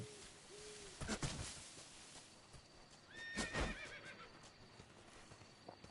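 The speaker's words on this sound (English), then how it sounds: "Yo reconozco ese caballo. En efecto, es un caballo." Horse neighing in the video game Metal Gear Delta, two whinnies a couple of seconds apart with clip-clop hoofbeats around them, moderately close over a quiet background.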